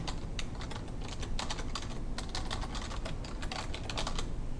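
Rapid typing on a computer keyboard while entering a spreadsheet sheet name, a steady run of close, crisp key clicks with brief pauses between bursts.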